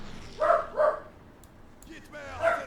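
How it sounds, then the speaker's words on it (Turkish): A dog barks at someone passing in the street outside: two quick barks, then a third after a pause, moderately close and loud over a low background murmur. "Sokaktan birisi geçtiği an havlamaya başlıyor."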